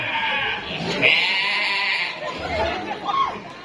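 A goat bleats loudly and close by, a drawn-out, wavering call followed by shorter bleats, with people chattering in the background.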